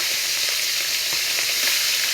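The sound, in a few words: oil sizzling while frying fish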